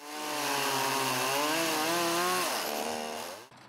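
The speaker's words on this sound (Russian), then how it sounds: "В ход пошли бензопилы и топоры." A petrol chainsaw cuts dry, fallen trees during a roadside cleanup, a loud sustained buzzing whine that rises and wavers in pitch as the blade loads, then drops off and stops near the end.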